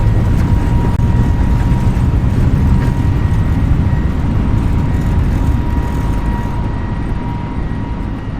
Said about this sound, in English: Let's take off and climb out of Geneva Airport.